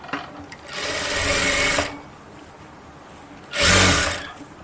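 A sewing machine stitches a piping seam on blouse cloth in two runs, a longer whirring burst followed by a pause and then a shorter one, close and clear with no talking.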